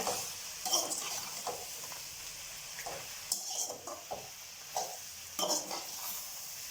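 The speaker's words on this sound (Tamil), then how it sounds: "சும்மா வந்து சூடானா போதும். ரொம்ப வந்து வறுக்க வேண்டியது கிடையாது உங்களுக்கு." Tamarind is stirred and warmed in a pan, with soft intermittent scraping and faint sizzling in a few short bursts, close but quiet, no voices.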